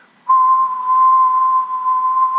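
A person whistles a single sustained, pure steady tone into a microphone for about two seconds, close and loud, with no voices.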